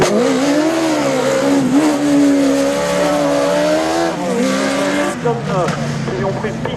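A single-seater race car runs a slalom course, its engine note loud and near, rising and falling with shifting harmonics as it accelerates and lifts, with a sharp change near the end, under a continuous commentator's voice.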